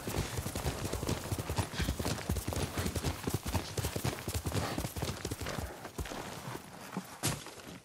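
Horse hooves clip-clop steadily and quickly across the whole stretch in Ghost of Tsushima, loud and close, with a brief snort or whinny near the end.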